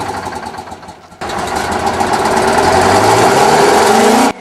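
Idling engine of the 1977 Big Bud 747 custom farm tractor, a 16V built in Harvey, Montana: a quieter rumble that jumps to a louder, steady, knocking idle with a slowly shifting pitch, then stops abruptly.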